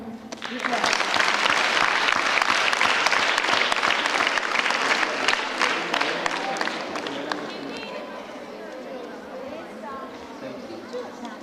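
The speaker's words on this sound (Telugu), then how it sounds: "అందరూ చప్పట్లు కొడదాం" Applause from a school audience of students at a child-rights awareness event: a dense burst of clapping that swells quickly, holds strongly, then thins and fades toward the end, with faint chatter underneath.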